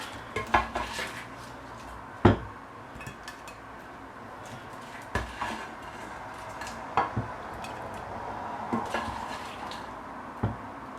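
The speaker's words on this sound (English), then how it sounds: "Just going to plate these up." Plates and cutlery clink while Caribbean-style pepper shrimp is plated at a home stove, with scattered sharp taps and knocks over a low background, a few louder hits standing out, and no talking.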